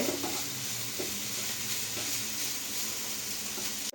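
Steady sizzling and hissing of grated coconut frying in a pan, with occasional soft stirring scrapes, close and continuous without speech.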